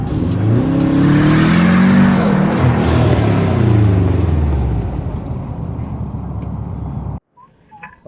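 A small RC car with a loud, buzzing electric drive, run by someone building an RC neighbor rig, whines and revs steadily for several seconds, rising and falling in pitch, then cuts off abruptly near the end.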